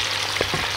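Meat and onions sizzle in a hot pot, a short close burst of frying with a couple of soft stirring clicks, no voices.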